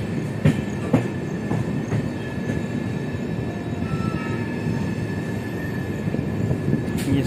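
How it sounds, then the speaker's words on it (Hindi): Dayodaya Express 12181 running at speed and crossing points onto the Jaipur line: a steady heavy rumble of wheels on rail, with sharp clacks over the switches early on and again near the end, close and loud with no talking. "इसने स्विच किया है जयपुर वाली लाइन पे।"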